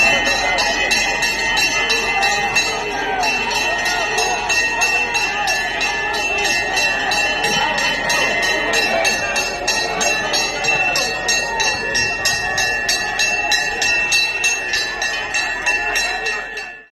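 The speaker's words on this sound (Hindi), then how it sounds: "यूथ कांग्रेस के कार्यकर्ताओं और पदाधिकारियों ने घंटा लेकर सड़कों पर प्रदर्शन किया" A large bell struck repeatedly by Youth Congress protesters marching on a city street, ringing in a steady, fast metallic rhythm that stays loud and continuous throughout, with crowd noise beneath.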